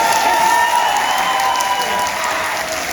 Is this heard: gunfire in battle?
no